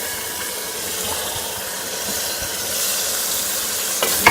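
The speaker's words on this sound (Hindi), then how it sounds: "अब मैं इसके अंदर कलेजी डालूँगी, तो ये भून लेंगे।" Liver pieces cook in spiced masala and oil, giving a soft, continuous hissing sizzle with faint stirring scrapes and a small clatter near the end, no one speaking.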